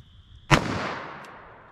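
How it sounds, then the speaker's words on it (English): A single loud, sharp .357 Magnum gunshot fired through denim and MDF into ballistic gel, with a decaying echo tail after the crack. "357 mag through our denim and MDF"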